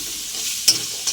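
Potatoes sautéed with turmeric and salt in a pan for chicken curry, giving a soft steady sizzle with a sharp stir or scrape near the middle and another brief one at the end.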